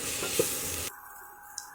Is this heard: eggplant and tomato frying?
yes